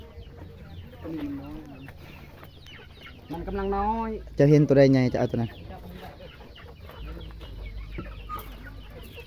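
Hens clucking nearby in short bursts, partly mixed with people talking over them, with a louder squawking flurry midway.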